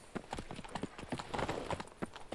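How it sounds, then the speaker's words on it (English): Horse hooves clip-clop steadily in The Witcher 3 Blood and Wine, a brisk run of hard, close hoofbeats over a busy background. "this big horse"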